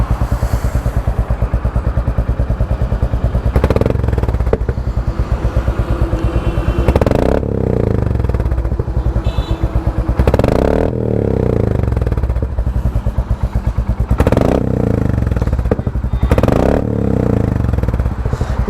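A Royal Enfield Meteor 350 with its catalytic converter removed and an optional Royal Enfield silencer fitted, running close by with a loud, steady thumping exhaust and repeated throttle blips, plus some mechanical clatter and no talk.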